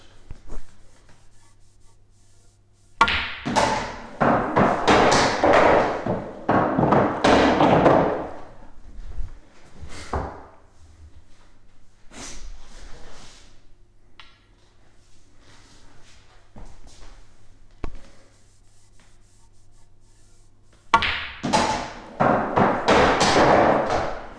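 Pool balls cracking together and dropping as the yellows are potted during a spin-control practice routine, heard as several close clusters of sharp knocks and thuds with quieter gaps between.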